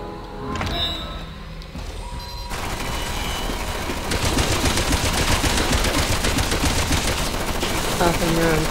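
Automated turrets open up with sustained rapid gunfire in the Resident Evil 6 video game. A mechanical whir and clatter comes first, then a dense, loud volley of shots that builds and keeps going.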